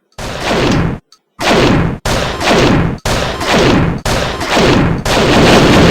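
Heavy gunfire from shooting a boss in the video game Poacher, loud booming blasts repeating about once per second after a brief silent gap, each shot crashing and decaying into the next.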